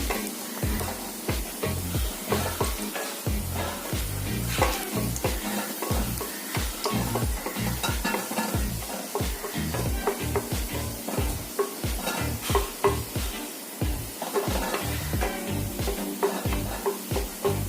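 Egg bhejo, a Burmese-style street snack, shallow frying in oil toward golden brown, with steady sizzling broken by repeated rhythmic stirring scrapes throughout, close and fairly loud with no talk.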